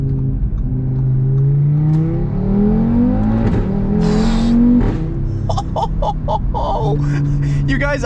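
An Audi RS3 engine revs hard toward redline in a rising drone, then shifts gears with an abrupt drop in pitch and crackling pops from the exhaust, heard from inside the car with some voice underneath.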